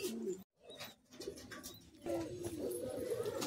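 Pigeons of local and Madrasi breeds held for sale in Kolaghat, cooing softly and continuously at a distance, with faint background noise and a short silent gap.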